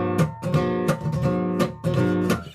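Syncopated riff on a bright, sustained instrument, with accented off-beat notes in an uneven rhythm, close and solo with nobody talking.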